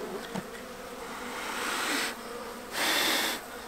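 Honey bees buzz loudly and close around a hive during spring feeding, a dense continuous drone that swells in two louder passes.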